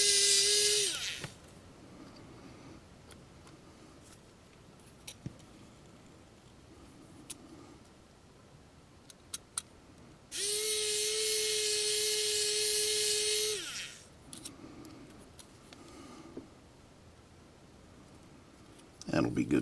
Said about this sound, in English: And then I can drill a hole right.